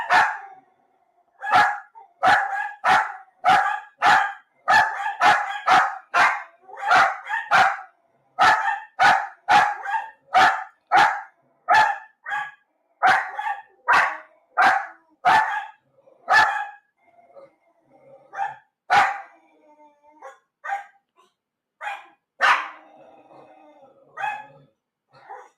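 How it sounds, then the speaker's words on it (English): Excited dogs barking in fast, repeated bursts, loud and close at first, then turning sparser, with occasional yips and whimpers toward the end. "That'll be the dogs all excited."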